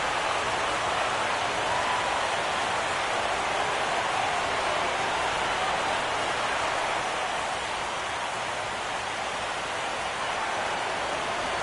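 Steady rain pours down throughout a 2016 ALCS baseball game between the Royals and the A's, a dense, loud, unbroken hiss with no talking.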